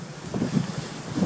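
Wind gusts at a campsite near Le Havre, a brief, low, rumbling buffet on the microphone that swells in soft uneven puffs.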